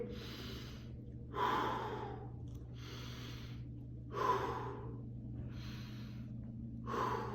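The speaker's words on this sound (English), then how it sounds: "In through your nose, out through your mouth." A person doing a karate workout breathes slowly in through the nose and out through the mouth, soft airy breaths repeating about every one and a half seconds with stronger exhales, close and quiet over a low steady hum.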